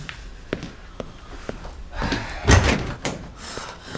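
Indoor door sounds: a series of sharp knocks or thuds at a steady pace, then a louder clattering bang of a door being handled and opened, followed by a few lighter taps.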